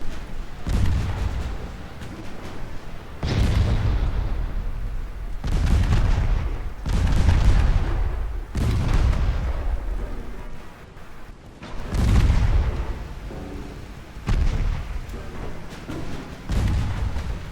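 Naval guns fire in Ultimate Admiral Dreadnoughts during a battle in the straits, a series of loud, deep booming salvos spaced every couple of seconds, each rolling out before the next shot.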